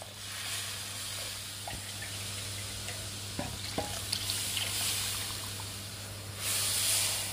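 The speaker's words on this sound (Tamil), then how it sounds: "சேர்த்து நாங்கள் இது கொஞ்சம் கொதிக்கிறதுக்கு விடுவோம்" A long bean curry with coconut milk and tamarind simmers in a pan, a steady soft hiss and bubbling with occasional ticks and scrapes of stirring, close and moderately quiet.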